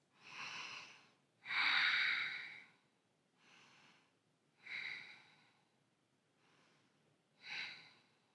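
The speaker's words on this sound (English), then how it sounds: "Breathe nice and deeply here. 3 ujjayi breaths" Slow, deep ujjayi breaths during a yoga flow, five audible breathy inhales and exhales with a soft throaty hiss, close and clear, alternating louder and quieter phases with silent gaps between.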